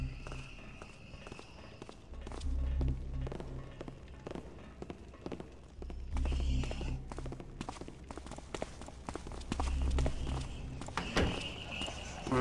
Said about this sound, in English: What's the other set of footsteps I'm hearing on wood?